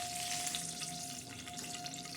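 Oil sizzles and fries in a pan while spicy dry cowpea pods are being cooked, a soft, steady crackle heard alone at low level.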